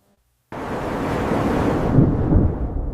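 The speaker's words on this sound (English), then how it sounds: "A massive splash erupts as the cold water engulfs his fluffy body." A sudden loud rush of water breaks out of silence, then churning freezing ocean surf roars on steadily, close and full, with no voices.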